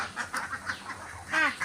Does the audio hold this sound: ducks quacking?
yes